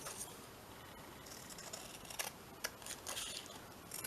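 Scissors snip through paper pieces in faint, close cuts over a steady hiss, with a few sharper snips near the end.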